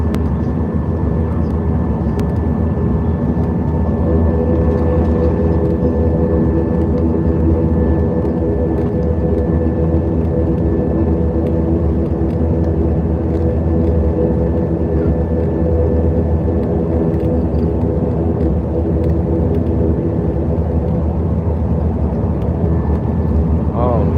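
Airliners, including Emirates and Turkish Airlines jets, taxi at Lagos airport amid heavy storms, giving a loud, constant engine roar and whine that fills the scene while a person talks over it.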